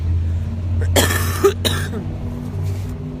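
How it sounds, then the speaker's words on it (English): Two harsh, close coughs in quick succession over a low steady hum, followed by quiet. "Sorry for the unattractive coughing in this live"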